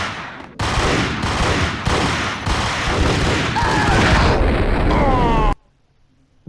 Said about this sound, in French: je me suis fait tuer par une grenade